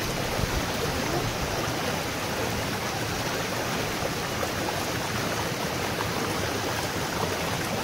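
Water in a mountain stream flows in a steady, even rush of moderate loudness, continuous and unbroken, with no voices over it.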